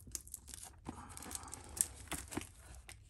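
Scissors and hands work at plastic packaging, giving faint, close crinkling and tearing with scattered sharp snips and rustles in irregular bursts, quiet and without talk.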